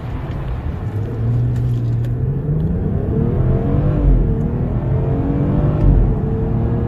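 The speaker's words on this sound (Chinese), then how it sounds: "下面先测下百公里加速" A 2018 BMW 540i xDrive with a 3.0-litre turbocharged inline-six, 340 hp, eight-speed automatic and all-wheel drive accelerates hard from a standstill toward 100 km/h, its engine droning loudly and rising in pitch through upshifts, with no talking.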